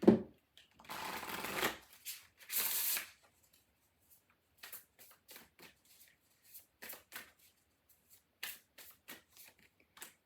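Oracle cards are shuffled in two brisk riffling bursts near the start, followed by scattered soft taps and flicks as the spellcasting deck is handled up close.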